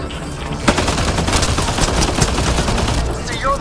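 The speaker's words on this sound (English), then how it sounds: "Who is shooting me like that? Oh, it's the turret." Rapid turret gunfire in Mass Effect: Andromeda, a loud continuous burst of shots from nearby, mixed with combat noise and a brief whoosh at the end.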